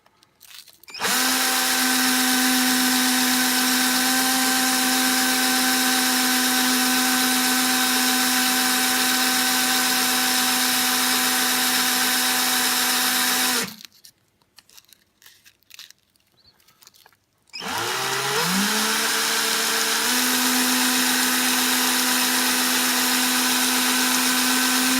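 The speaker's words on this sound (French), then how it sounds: "On y va, on ponce." A power tool spins steadily while sanding and polishing a vape coil, a loud sustained whine that cuts out briefly, gives way to scattered handling noise, then spins back up and runs on to the end.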